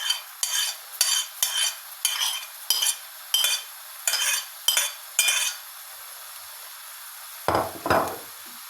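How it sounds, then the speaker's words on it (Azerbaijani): A utensil stirs onions frying in oil in a pan, eight or nine rhythmic scraping strokes about half a second apart over a faint sizzle, close up, followed by a pause and a couple of heavier clanks. "Beləcə yaxşıca qarışdırırıq."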